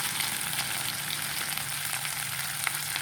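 Chicken meat frying in a pan for a Bodo recipe of kenaf leaves with chicken, giving a steady, even sizzle that holds throughout with no talk over it.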